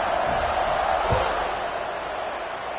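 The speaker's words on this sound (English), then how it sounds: "this crowd is buzzing after that last score" A packed football stadium crowd at a Miami versus North Carolina Tar Heels game keeps up a steady, dense roar just after a score, with a brief low thump near the middle.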